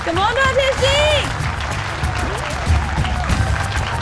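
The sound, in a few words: loud applause for wrestler entering the arena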